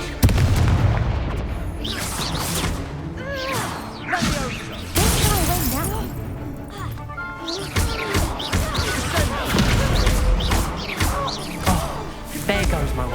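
Confringo fire spells blasting during a duel in Hogwarts Legacy, heavy booming explosions and crashing impacts in repeated bursts, loud and close, with dueling characters shouting spells and lines between the blasts.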